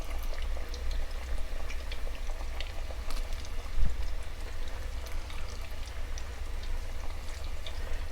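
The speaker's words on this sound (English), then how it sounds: "now I'm going to dump in these ones that I've cut on a diagonal." Diagonally cut plantain slices fry in hot oil, giving a steady, faint bubbling sizzle with scattered tiny pops throughout, continuous and without talk.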